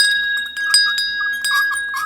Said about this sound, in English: I found this awesome brass bell. I do believe it's a nautical bell.